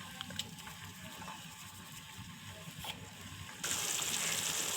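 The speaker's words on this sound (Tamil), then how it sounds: "2 டம்ளர் தண்ணி ஆட் பண்ணிக்கணும்." Water pours into a cooking pot for rice-flour salt dumplings, first a low splashing stream, then a louder, steady gushing fill near the end.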